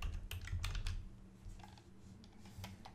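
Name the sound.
typing on a computer keyboard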